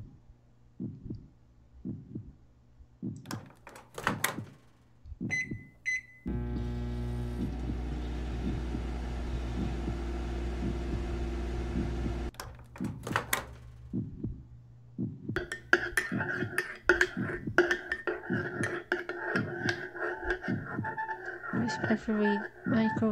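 A video-game microwave oven runs with a loud, steady electrical hum for about six seconds, framed by scattered thumps, clicks and short beeps before and after.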